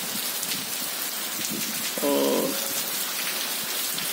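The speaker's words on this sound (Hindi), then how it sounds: "इसमें अभी समय अच्छी बरसात हो रही है" Heavy rain pouring onto a grassy lawn enclosed by college buildings, a dense steady hiss throughout, with a brief tonal sound partway through and a single word spoken.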